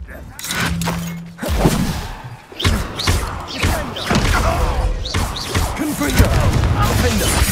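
Bombarda explosion spell cast in Hogwarts Legacy, a run of heavy booming thuds and crashing impacts with shattering debris, following a low tone, amid battle noise and a voice casting spells.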